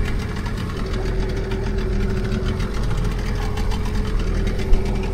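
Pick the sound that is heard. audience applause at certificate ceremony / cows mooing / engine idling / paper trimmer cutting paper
engine idling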